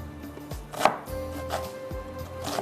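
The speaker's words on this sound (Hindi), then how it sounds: "जब तक ऑयल गर्म हो रहा है इतनी देर में हम प्याज को इस तरह से कट कर लेते हैं" A knife chops a small onion on a board in a steady rhythm of close, crisp strokes, roughly one every half second.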